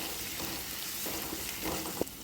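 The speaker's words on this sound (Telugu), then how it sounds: "అల్లం వెల్లుల్లి పచ్చివాసన పోయే వరకు వేయించుకుందామండి" Onions and ginger garlic paste fry in a pan, giving a steady, soft sizzle throughout with occasional faint stirring scrapes and a small clink near the end.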